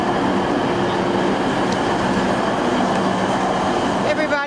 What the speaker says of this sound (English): All the trains pull in here one direction